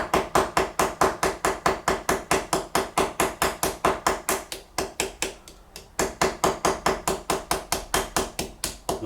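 A hammer peens the scale of a Joseph Elliot straight razor on a bench: fast, steady metallic taps close and loud, keeping an even rhythm with one short pause partway through.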